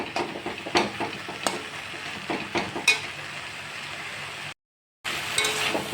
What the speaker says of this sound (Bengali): এখনও অনেকটাই ভাজা ভাজা হবে।